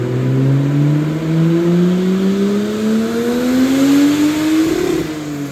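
Turbocharged Mercedes C180 with an M104 engine on a dyno run at 0.8 bar boost, loud and close, the engine note rising smoothly and steadily as it pulls through the rev range before abruptly cutting off near the end.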